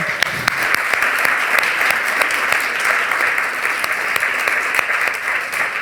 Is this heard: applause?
yes